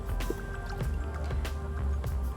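About 50 ml of liquid nutrient poured from a measuring glass into water for a hydroponic fruit-tree system on a terrace; soft, close drips and gurgles over a low background hum.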